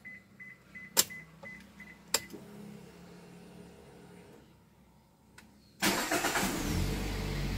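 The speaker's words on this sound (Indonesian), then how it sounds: "nyalakan mobilnya." Daihatsu Sirion engine cranking and catching after an ECU reset, preceded by a few soft dashboard chimes and clicks, then settling into a steady, fairly loud idle.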